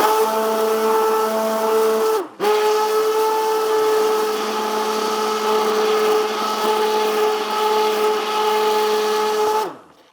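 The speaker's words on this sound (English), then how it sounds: "These kind of blenders, you can just stick on the bottom and it pulls basically it sucks everything down to the bottom and mixes it up." A stick blender whirs steadily at close range while mixing a Power Meal shake, a loud constant motor drone that drops out briefly, restarts and runs for several seconds before cutting off.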